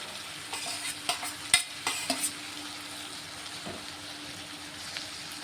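A spoon stirs chopped tomatoes and chili powder into a stuffed ivy gourd curry in a pan, with a cluster of close scraping clinks early on over a soft, ongoing sizzle and no talking.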